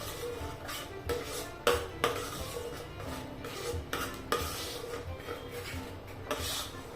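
Spoon stirring and scraping masala in a pan over medium gas, with a soft sizzle underneath and a few sharper clinks of utensil on metal, close and steady.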